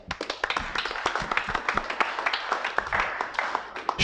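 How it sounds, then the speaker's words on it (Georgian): A crowd at a Georgian fight press conference claps to see off the fighters, giving a scattered, uneven round of hand claps with sharp individual slaps, moderately loud and close. "აპლოდისმენტებით გავაცილოთ მებრძოლები"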